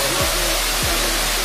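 Steady broadband roar of rushing water from a crowded, cold-water waterfall swimming spot, loud and continuous, with a couple of brief low thumps.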